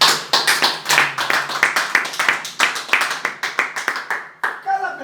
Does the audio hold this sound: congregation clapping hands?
yes